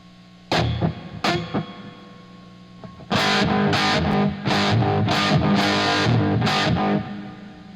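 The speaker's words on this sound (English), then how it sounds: "Let me turn on the echo plex so we can hear how much it's being brought in" An electric guitar runs through an Echoplex echo effect on a pedalboard, playing a few sharp plucked notes and then sustained distorted strums that ring with repeating echoes.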